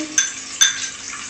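Chopped onions fry in hot oil with a soft, steady sizzle, broken twice by brief metallic clinks of a utensil against the pan.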